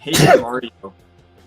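A person sneezes once, sharp and close, during a casual podcast conversation, followed by a few quick spoken words.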